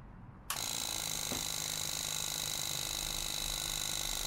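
A Yamaha Virago's ignition switches on with a sudden click, then the fuel pump and TCI energize into a steady, close mechanical whir and buzz that holds to the end, with no talk.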